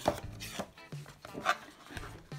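Packaging of a GoPro Hero 2018 camera is handled and opened, producing close, intermittent scraping and rustling rubs with soft knocks in uneven bursts.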